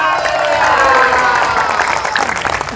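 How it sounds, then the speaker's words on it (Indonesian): A church congregation applauds together after a call to clap for God, with dense, steady clapping mixed with scattered cheers and voices throughout. "Tepuk tangan buat Tuhan."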